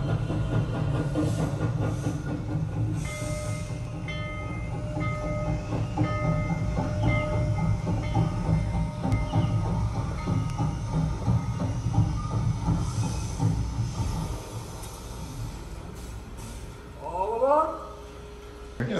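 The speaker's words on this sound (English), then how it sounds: "So the train diorama has long been a favorite part of our exhibits here at the History Museum." Model train running around a history museum's train diorama, with a steady rolling clatter and mechanical hum throughout and a brief squealing sweep near the end; voices talk over it.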